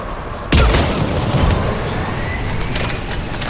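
A mounted gun opens fire in Mass Effect 3 during the Cerberus evacuation, a sudden loud burst followed by sustained rattling gunfire and booming impacts over a dense battle din.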